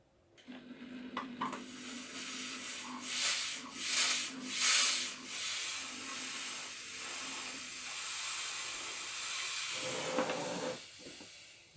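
Vax steamer hissing out steam in long breathy bursts, swelling and fading several times, then settling into a steady softer hiss with faint handling noises.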